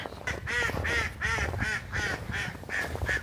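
Ducks or geese in a park beside the water give a rapid series of about eight honking quacks, evenly spaced and fairly close.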